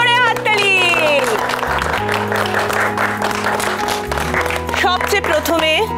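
A studio audience breaks into loud, sustained clapping for the second runners-up of a game on a television show, with music playing underneath throughout.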